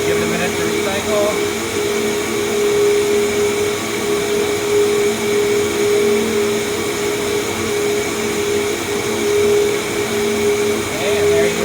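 An airflow bench pushes a steady, full-throttle stream of air through a MAF sensor, giving a constant loud whoosh and hum with a faint tonal whine, unbroken for the whole stretch.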